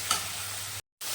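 Tomato and onion frying with whole spices in a pan, a steady soft sizzle with light stirring that runs for under a second, drops to a brief silence, then starts again.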